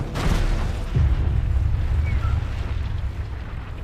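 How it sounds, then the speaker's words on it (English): Fire bombs go off in an animated action episode, a deep rumbling blast with a booming low thud near the start that settles into a sustained roar, with no talk over it. "Fire bombs!"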